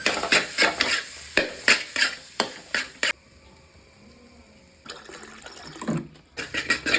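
Cooked jackfruit is tipped into a pan with egg and stirred, giving a run of sharp scraping strokes and sizzling, then a quieter gap before more stirring resumes.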